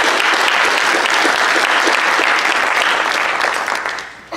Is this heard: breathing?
no